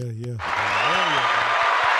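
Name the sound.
applause for the graduates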